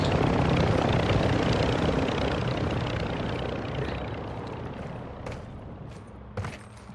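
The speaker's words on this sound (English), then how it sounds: "chopper over here is suspicious" Helicopter in the Call of Duty DMZ video game during a night run, its steady rotor and engine roar loud at first and slowly fading over several seconds, with a couple of brief sharp game sounds near the end.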